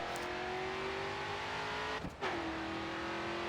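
A race car in the racing video game Grid 2 holds full throttle, its engine a loud, steady high-pitched whine that briefly dips at a gear change, then climbs again.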